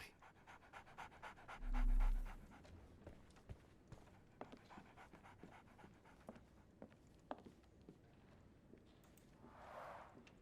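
A dog in the video game Sherlock Holmes: The Awakened pants steadily with fast, rhythmic breaths close up, faint overall, with a low thump early and a soft swell of background sound later.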